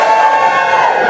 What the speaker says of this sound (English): Give me a cheer if you like plantain.